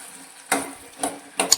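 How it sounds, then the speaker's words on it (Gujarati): A spoon stirs and scrapes through potato curry sautéing in hot oil with tomatoes, cinnamon and cloves, making three quick, close strokes over a soft, steady sizzle. "ફરી આપણે શાકને આ રીતે હલાવી લઈશું"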